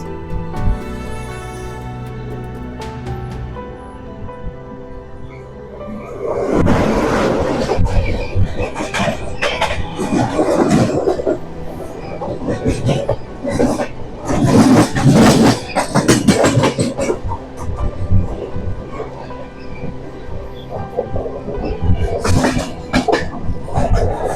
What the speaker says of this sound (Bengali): সামনে থেকে ছুটে আসছে ট্রেন নাম্বার 12889 টাটানগর থেকে ব্যাঙ্গালুরু সুপারফাস্ট এক্সপ্রেস